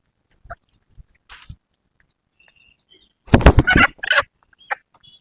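A live Nallampatti country chicken (nattu kozhi) gives a few sparse, short sounds, then a louder burst of clucking and squawking for about a second, close by in an otherwise quiet space.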